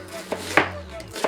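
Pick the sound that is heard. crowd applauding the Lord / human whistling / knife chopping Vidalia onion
knife chopping Vidalia onion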